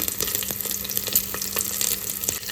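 Green and red chillies frying in hot oil for mango chitranna, a steady bright sizzle with faint stirring ticks throughout.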